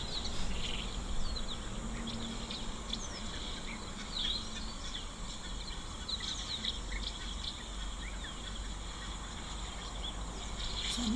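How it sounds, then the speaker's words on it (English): Little bee-eaters call at a waterhole among acacia trees, faint short chirps scattered over a steady bed of insect buzz and distant birdsong. "I think I heard little bee eaters"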